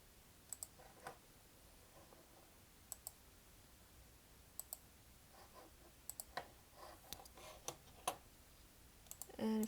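A computer mouse clicks at a desk, sharp isolated clicks scattered irregularly and close up, some in quick pairs, over a faint quiet room background with no talking.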